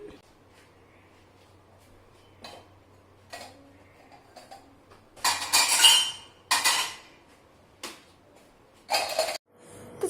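Pots and utensils being cleared aside in a small home kitchen, a few scattered clinks and clatters of metal cookware, with a louder burst of handling midway, close and alone without talk.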